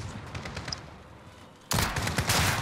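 Gunfire in a shooter video game: quieter shots and clatter at first, then a loud burst of rapid automatic fire that continues to the end, close and dense, with no talking.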